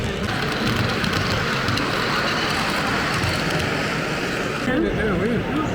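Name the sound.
train passing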